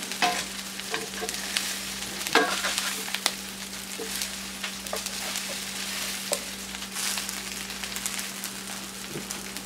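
A burger fries in a little oil in a seasoned cast iron pan, sizzling and crackling steadily up close with scattered pops and light stirring or scraping sounds and a low steady hum, with no one speaking.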